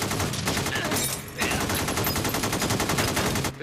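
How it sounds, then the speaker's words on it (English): Sustained automatic rifle fire during a bank robbery shootout in North Hollywood, rapid bursts of shots rattling almost without pause, with a brief lull near the middle before the firing resumes, somewhat distant and harsh. "They're shooting hundreds of rounds."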